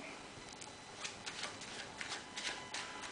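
Deck of playing cards being shuffled by hand for a magic routine: quiet, close, rapid riffling and snapping flicks repeating throughout, soft against low background hiss.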